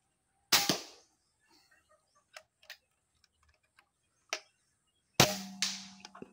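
Shots from a Taurus Toys SN24-0066 toy gun fired at a 1-inch target plate at 60 meters: two sharp loud cracks several seconds apart, with faint distant clicks and taps between them.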